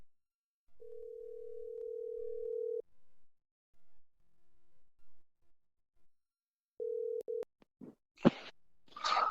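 A steady telephone dial tone plays for about two seconds, with a later short burst of tone, then clicks and handling noises as a call is placed, on an otherwise quiet line.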